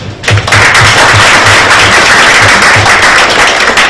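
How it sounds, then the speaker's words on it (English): Loud, dense applause from an audience fills the room at once and holds steady, many hands clapping together to congratulate students who passed a Mandarin language test. "you deserve a big round of applause"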